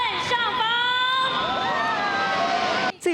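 A crowd of spectators cheers and shouts steadily at a National Day parade as a procession of honoured athletes' vehicles arrives, with a mix of high voices and whistles, close and continuous.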